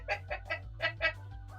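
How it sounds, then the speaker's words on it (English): Giant seagull boss Jonathan in 100% Orange Juice lets out a string of about six short, squawking cries in a steady rhythm, clear and close with nothing else heard. "Literally a giant seagull that summoned more seagulls."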